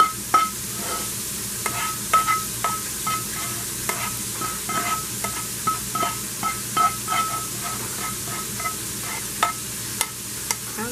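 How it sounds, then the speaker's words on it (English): Steady, close stirring of spinach, garlic and butter into mashed potatoes, a string of rhythmic spoon scrapes and soft taps against the pot with no talking. "Just mix that garlic and spinach and butter"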